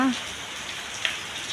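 Morning rain falling as a steady, soft hiss that fills the short stretch, with one brief droplet tick partway through and no voices over it.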